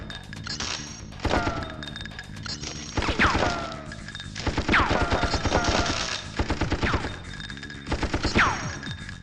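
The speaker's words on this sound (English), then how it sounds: "the empty shells that dropped on the floor had that pleasant sound we all know and love" Rapid bursts of automatic gunfire from the PlayStation game Apocalypse come in repeated volleys with clattering hits and bright ringing shell-casing tinkles in between. The sounds are loud and close, and there is no talking.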